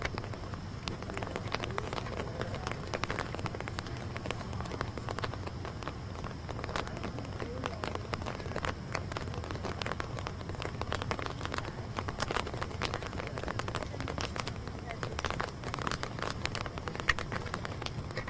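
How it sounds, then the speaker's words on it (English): Rain falling at night at an outdoor protest occupation at the Minnesota State Capitol, a steady faint patter of scattered drops tapping on surfaces, continuous and even throughout. "Starting to rain again."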